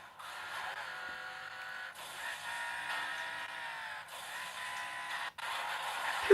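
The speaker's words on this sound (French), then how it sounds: "Donc là je suis en train de déglinguer la bagnole que je viens de réparer" A car in an Xbox video game, played remotely on a PC, drones steadily with engine-like tones throughout, with brief dips and a sharp jolt at the very end and no talking.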